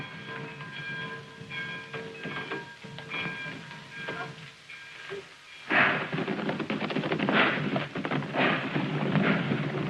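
A train runs steadily with rattling and rumble, faint tonal hums early on, then a louder burst of clattering wheels and rushing noise close by.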